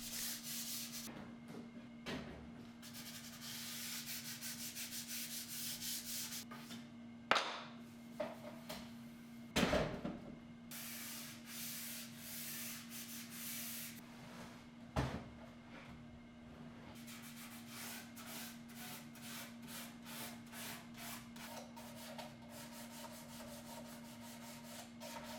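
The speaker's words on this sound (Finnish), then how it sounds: "Aloitan hiomalla pinnat 400 paperilla." Furniture restoration: 400-grit sandpaper rubbed over a mid-century cabinet's lacquered surfaces, heard as repeated soft scraping strokes in bursts with brief pauses and a few knocks, close and fairly quiet, over a steady low hum.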